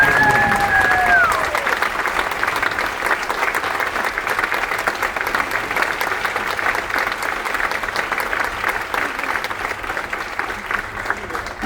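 Loud, steady applause from a large crowd aboard the cruise ship Voyager of the Seas fills the whole stretch, with a voice briefly heard at the start.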